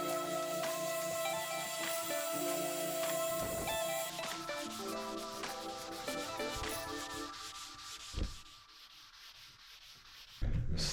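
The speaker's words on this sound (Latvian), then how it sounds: "Slīpēšana ir garš process." Steady abrasive sanding of old wooden boards, a continuous rasping whir that runs for several seconds, then changes pitch and cuts out with a couple of thumps near the end.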